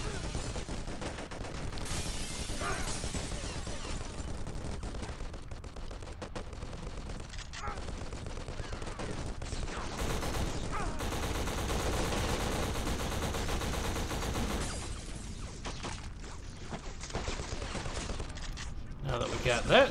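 Steady, continuous gunfire from the shooter game Black fills the scene throughout, with dense bursts of shots and a heavy sustained layer that swells midway; speech-like sounds appear beneath it.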